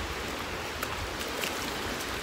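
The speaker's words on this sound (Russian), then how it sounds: "Немножко ветрено," Constant broadband wind rush at the seaside with a watery wash of waves beneath it, steady and close throughout, no voices.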